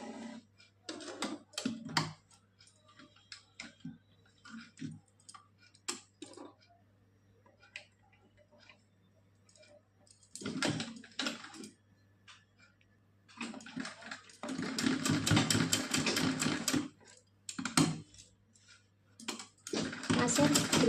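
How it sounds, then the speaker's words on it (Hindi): A sewing machine stitches a cotton doll dress in rapid mechanical bursts of whirring and ticking, the longest runs near the end, broken by pauses with a voice talking in between. "और इस पे हम सिलाई लगाएंगे।"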